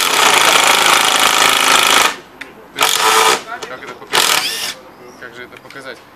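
Makita impact driver in T-mode driving self-tapping screws: a loud, steady whirring hammer for two seconds, then shorter bursts of rattling impacts with pauses between, close to the microphone.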